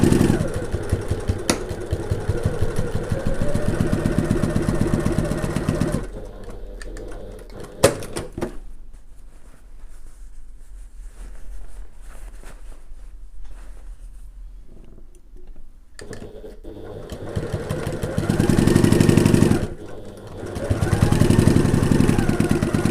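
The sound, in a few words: sewing machine stitching a gift bag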